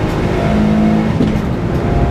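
A Citroen C1 race car engine drones steadily at close range during the 24 Hours of Silverstone, its tone holding level and then shifting slightly as it slows into a pit stop, with no voices.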